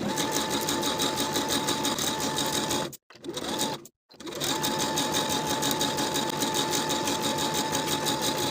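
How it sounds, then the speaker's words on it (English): A domestic sewing machine runs steadily as it stitches the inseam of pleated pants, starting from the bottom of one leg, with a brief stop around the middle before the even, rapid whir resumes. "Now I can sew the inseam starting from the bottom of one pant leg"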